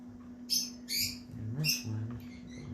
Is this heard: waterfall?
no